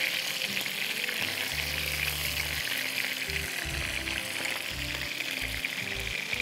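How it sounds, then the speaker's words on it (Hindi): Almonds fry lightly in hot oil with a continuous soft sizzle, punctuated by low irregular thumps from a spoon or pan handling, fairly close and steady throughout. "बादाम बिल्कुल हल्के से फ्राई करके फिर निकाल दीजिएगा"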